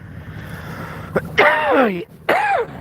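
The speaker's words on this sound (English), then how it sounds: "Sorry for the coughing" A person with a sinus problem coughs and hacks up close, a couple of harsh, rasping bursts with a short pause between them.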